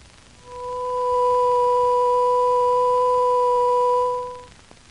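A steady electronic tone made of a sine-wave fundamental plus its second harmonic fades in, holds evenly for about three seconds, then fades out.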